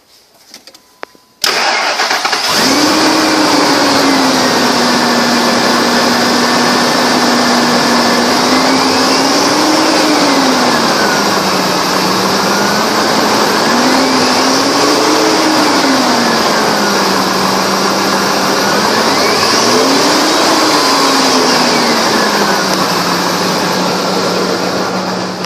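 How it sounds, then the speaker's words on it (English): A 1999 Ford Expedition with about 179,745 miles starts after a brief crank, then runs steadily at a loud, close idle, with the engine note rising and falling in a few gentle revs before settling again. "1999, Ford Expedition, mileage 179, 745, engine run video."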